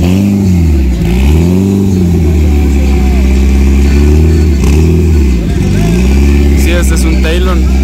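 An Eagle Talon accelerating hard in a street race, its engine note climbing and dropping through repeated rev sweeps, loud and close, with people shouting around it.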